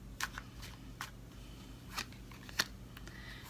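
Tarot cards are shuffled by hand in a quiet room, giving a series of short papery riffles and flicks at irregular intervals, close and soft, with faint background hum between them.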